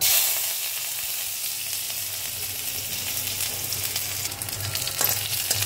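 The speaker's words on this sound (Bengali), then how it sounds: "তেলটা গরম হয়ে গেছে, দেব জিরে, দেব রসুন আর আদা" Cumin, garlic and ginger sizzle steadily in a small amount of hot oil, a continuous loud frying hiss with brief spattering crackles, heard alone without talk.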